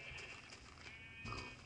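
Minecraft sheep bleating faintly, a couple of soft wavering calls, one near the start and a clearer one near the end, over low game background.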